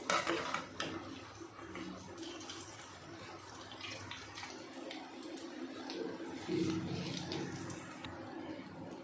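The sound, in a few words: stirring jackfruit peel chips frying in pan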